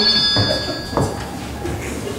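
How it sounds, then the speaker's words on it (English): An old-fashioned telephone rings in a household in a vintage radio drama. A thin, bell-like ring sounds early on and fades, with muffled room noise after it. "I gotta get that phone."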